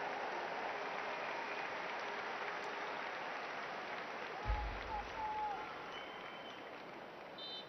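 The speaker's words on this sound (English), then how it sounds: "those that are here have reason to cheer" Football crowd at an Olympic men's match between Honduras and Morocco cheers and applauds an equaliser, a distant, steady wash of noise with a brief low thump midway.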